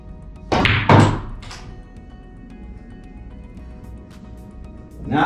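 On a pool table a cue strikes a billiard ball, then balls knock together: a pair of sharp, close clicks, a softer tap, a quiet stretch and another click near the end, with no talk.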